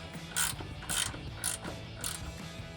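A hand ratchet clicks in four short bursts as it tightens bolts on a Steer Smarts Yeti XD sector shaft brace on a Jeep Wrangler JK, close and fairly quiet, with no talking.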